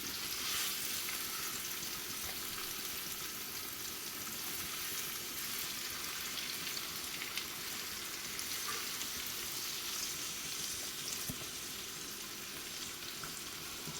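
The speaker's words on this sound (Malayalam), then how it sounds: "ഇനി ഒരു മൂന്ന് മിനിറ്റ് നമുക്ക് ഹൈ ഫ്ലെയിമിൽ ഈ ഒരു സൈഡ് ഒന്ന് വെന്തതിന് ശേഷം മറിച്ചിട്ട് കൊടുക്കാം" Marinated chicken pieces for chicken manthi fry in a pan over high flame, giving a continuous, even crackling sizzle that carries on steadily and close by with no voices.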